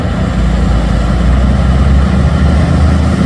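A Hino tank truck's diesel engine idles steadily up close, a constant low rumble with no talk.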